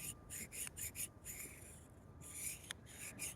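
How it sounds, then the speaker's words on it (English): Spokeshave blade rubbed back and forth on a diamond sharpener, quiet rhythmic rasping strokes repeated at a quick, even pace, close up. "Seeing as I'm using a diamond sharpener, you don't need to do it a whole lot."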